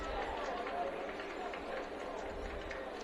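Baseball crowd at a 4A tournament game between Bear River and Snow Canyon, a steady roar of murmuring and shouting voices reacting to a check-swing call, dense and continuous throughout.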